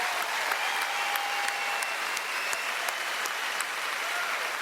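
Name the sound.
audience applause at comedy gala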